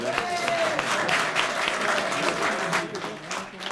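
Rugby stadium crowd applauding a Narbonne try in the 1973-74 French championship final against Béziers, a dense roar of clapping filling the whole stretch, with commentary voices running over it.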